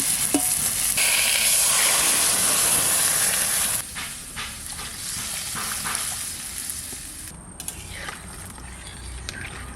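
Fish curry masala for a river Baush fish and elephant foot yam curry sizzles loudly in a pan, then quiets abruptly as water is poured in, leaving a softer bubbling hiss with occasional utensil clinks.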